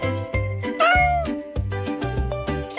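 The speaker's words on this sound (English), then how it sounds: "This is a cat." A cat meows repeatedly in short, clear, close calls with one longer rising-falling meow, loud and alone with no talking.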